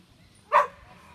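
A single short, sharp bark from a large dog, loud against a quiet background.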